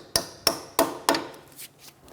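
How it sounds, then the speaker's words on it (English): Four sharp hammer taps seating a CV axle part on a 2007-2012 Nissan Altima, evenly spaced, with a fainter fifth knock trailing off. "You can tap it with a hammer into place."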